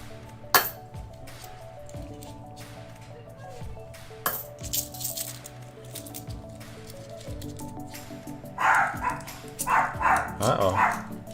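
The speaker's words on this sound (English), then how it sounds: "dog's barking at the wife" A dog barks in a home, a burst of repeated barks near the end, heard over clinking coins being sorted and a low steady hum.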